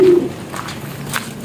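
Pigeons coo in a brief, low, rounded call at close range, followed by soft flutters and faint rustling.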